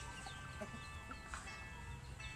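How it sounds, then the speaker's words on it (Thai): Chickens cluck softly in short scattered calls at a farmyard, quiet and somewhat distant over a low steady background hum. "ไก่กะหลายๆค่ะพี่น้อง"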